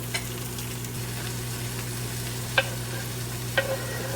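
Spinach and sun-dried tomatoes are stirred through a chickpea flour scramble in a pan, a soft, steady sizzle under a low electrical hum, broken by a few crisp clicks of the spoon.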